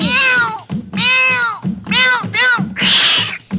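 Within a song, a cat meows several times in a row, drawn-out loud close meows with one harsher caterwaul at the end, likely mixed with the sung melody.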